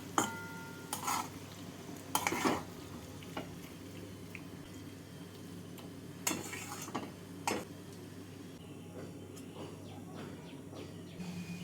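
Bitter gourd and potato curry with mustard oil and poppy seed paste being stirred in a pan, with a few scattered clinks and scrapes of a utensil against metal over a low steady background.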